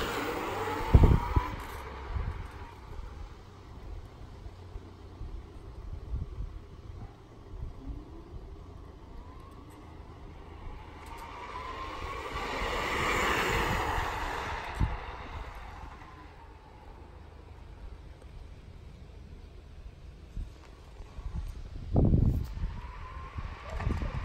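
A Dualtron 3 electric scooter, a 2019 model, runs on both motors as it passes by outdoors, with a broad whooshing swell that builds to a peak mid-pass and fades away, plus a couple of sharp knocks near the start and the end.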